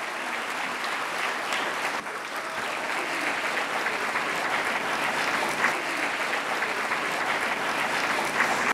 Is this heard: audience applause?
yes